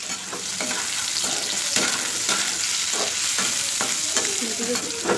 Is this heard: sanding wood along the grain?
no